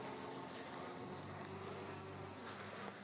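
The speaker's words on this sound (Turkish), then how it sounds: "Şimdi burada bir arım var. Açtım ben kovanı." Honey bees swarm around an opened hive during a spring inspection, a dense continuous buzzing hum that stays steady and close throughout with no talking.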